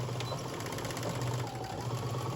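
A sewing machine stitches fabric for a large bow, giving a steady, quiet mechanical hum with a soft repetitive needle rhythm throughout, nearby and alone.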